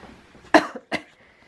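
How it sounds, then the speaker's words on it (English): Two sharp coughs from one person, close by, in a snowy outdoor setting; a quick harsh burst followed by a second after a short pause, with only faint background otherwise. "I'm still coughing."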